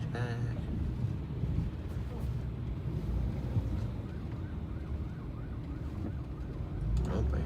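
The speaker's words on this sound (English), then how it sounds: "Oh, I hear a siren." A faint emergency siren wails with a rising and falling pitch through the steady road rumble inside a car on the drive from Wilmington to Philadelphia, swelling slightly as it draws nearer.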